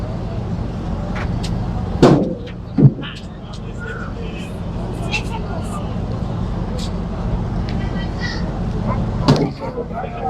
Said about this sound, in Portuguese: Olha só como eles estão tirando o carro.